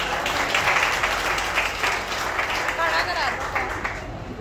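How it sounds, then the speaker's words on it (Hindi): An audience breaks into dense applause, a loud continuous clatter of many hands that holds steady for several seconds, with voices mixed in over it. "उसके लिए ताली बजा दो।"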